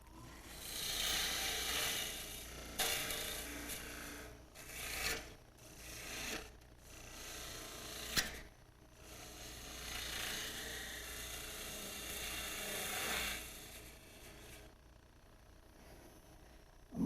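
A gouge hogs wood off a spinning goblet blank on a wood lathe, a loud continuous rasping shear that swells and fades in long passes, with a few sharp knocks between cuts.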